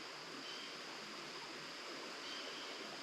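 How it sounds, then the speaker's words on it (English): Smooth-flowing stream below a backcountry campsite in Pisgah National Forest, a soft, steady rush of water that stays even and constant throughout, fairly faint, with no other sounds. "with the smooth flowing water right below it"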